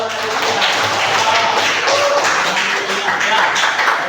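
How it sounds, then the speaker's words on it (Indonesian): Classroom applause for a student named Aditya during a lesson, a steady dense patter of many hands clapping at even loudness throughout, with no speech over it. "tepuk tangan buat Aditya"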